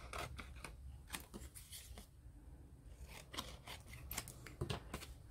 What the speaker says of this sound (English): So let's cut this into two pieces.